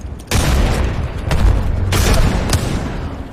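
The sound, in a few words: grenade explosion in a video game (Apex Legends)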